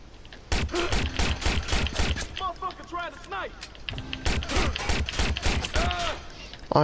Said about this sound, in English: There's a big shootout going on at the Barrows and Brandon Docks.